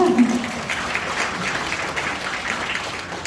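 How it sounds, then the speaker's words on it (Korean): Audience at a social economy committee launch ceremony claps for a departing speaker with steady, moderately loud applause that lasts throughout, with a brief voice at the start. "가시는 길 박수 한 번 더 드릴까요?"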